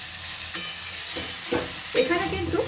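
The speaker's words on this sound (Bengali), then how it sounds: "এখন এর মধ্যে আমি দিয়ে দেব ভেজে রাখা কচু ও বেগুন। খুব ভালো করে সব কিছু মিশিয়ে নেব।" A spoon scrapes and stirs fried taro and eggplant into a simmering vegetable curry in a pan, with a steady sizzle underneath and a few louder scraping strokes against the pan.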